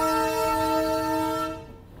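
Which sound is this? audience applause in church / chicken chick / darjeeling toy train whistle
darjeeling toy train whistle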